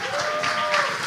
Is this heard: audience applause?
yes